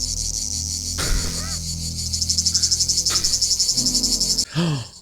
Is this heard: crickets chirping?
yes